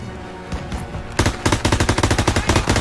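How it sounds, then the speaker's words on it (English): Machine gun suppressive fire in the Call of Duty WWII game, a few scattered shots then a loud, rapid sustained burst of rhythmic automatic gunfire close by. "Suppressive fire!"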